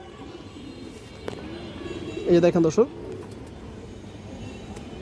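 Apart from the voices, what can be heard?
giribaj high flyer pigeon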